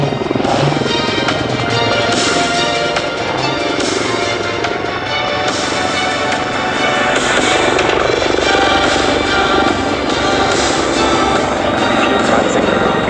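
A Mi-24 Hind helicopter flying in an airshow display at Airpower Zeltweg 2019, its engine and rotor making a loud, steady roar that fills the whole stretch without letting up.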